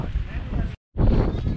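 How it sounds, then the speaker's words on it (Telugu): Strong wind buffets the microphone outdoors in Barot Valley, Himachal Pradesh, a loud, rough, continuous roar that cuts out for a moment and then returns just as heavily. "బయట గాలి అయితే ఘోరంగా వీస్తుంది"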